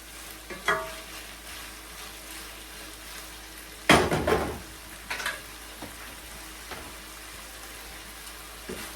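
A pot of ackee and saltfish gets a gentle stir, with soft scrapes and clinks of a spoon against the pot over a low sizzle, one louder scrape and clatter in the middle.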